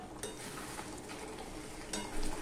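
A spoon scrapes and stirs paneer curry with cashews in a pan, soft steady sizzling broken by a few sharp scrapes against the bottom, close and fairly quiet, with no voices.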